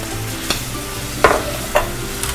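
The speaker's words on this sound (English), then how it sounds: "now that it's melted, let's add the pan juices into the pan" Pan juices are poured into melted butter in a small saute pan over medium heat, setting off a close, loud sizzle with a few stirring clinks and spoon taps.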